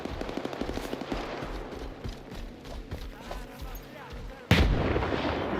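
Rapid gunfire crackles continuously at a distance, with one sharp, much louder shot near the end, while people talk under it.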